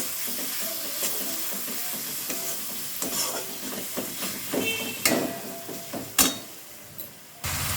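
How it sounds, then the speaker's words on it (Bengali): Spice paste with coriander and cumin powder frying in a pan for a fish curry, a continuous close sizzle with repeated scraping stir strokes that grow louder and more frequent toward the end, no voices. "দিয়ে আমি মশলাটা ভালোভাবে একবার কষিয়ে নেব।"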